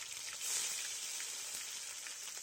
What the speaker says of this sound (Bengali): তেলের মধ্যে দিয়ে দিয়েছে তেজপাতা পাঁচ ফোড়ন কেটে রাখা টমাটো